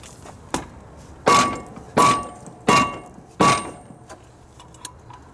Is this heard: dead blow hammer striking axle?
yes